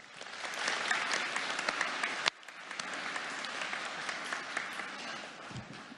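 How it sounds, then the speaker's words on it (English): Audience at the Assembly of First Nations annual general meeting gives a big round of applause for young people, a dense, steady clapping that fills the room throughout, with a brief sharp bump partway and slightly thinner clapping near the end. "Just one last big round of applause for our young people here."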